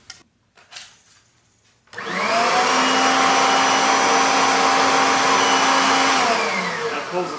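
A Kirby vacuum cleaner with hose extensions attached starts up after a few quiet knocks and runs as a loud, steady whining roar, close and continuous with no talk.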